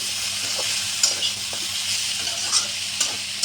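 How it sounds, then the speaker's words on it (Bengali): A spoon stirs drumstick (sajne) curry in a hot pan. Steady frying sizzle runs throughout, with several soft scraping taps of the spoon against the pan at irregular moments. There is no talking. "দেখুন বন্ধুরা, এটা একটু ভালো করে নেড়ে চেড়ে নিলাম।"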